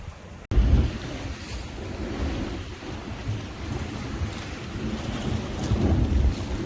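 Sea waves churn into white foam against a rocky shoreline, a steady, loud wash of surf rumbling continuously with heavy wind buffeting the microphone, and no voices.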